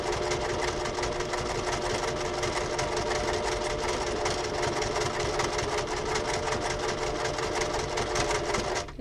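A Brother LS-2020 sewing machine stitches a buttonhole, its needle running in a fast, steady mechanical chatter that stays close and loud without a break for about nine seconds before stopping abruptly.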